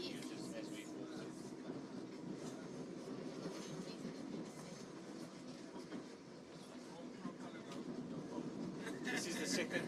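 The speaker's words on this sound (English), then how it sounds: "This is the second train." A commuter train on the KwaMashu to Durban line rumbles steadily with rhythmic wheel clatter and occasional squeals, heard from on board or close by amid faint crowd chatter.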